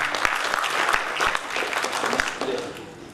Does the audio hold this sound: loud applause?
yes